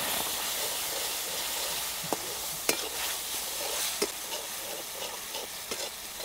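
Tomato paste with garam masala and onion-garlic masala sautés in a pan for soybean curry, giving a steady close hiss and sizzle broken by several sharp spoon scrapes and clinks against the pan.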